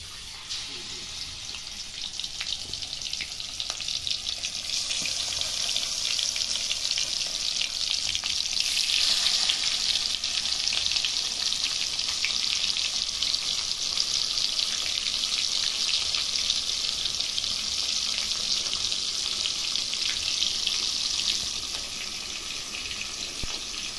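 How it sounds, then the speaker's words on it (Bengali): Rohu fish frying in hot oil, giving a continuous, dense, crackling sizzle that holds steady and loud from start to finish, close up and uninterrupted, with no talking over it. "তেলটা গরম হয়ে গেছে, আমি এর মধ্যে মাছ দিয়ে দিচ্ছি"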